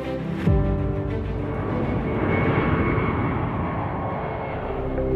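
An airplane flies over with a loud, steady broadband engine roar that holds throughout, a brief sharp transient near the start.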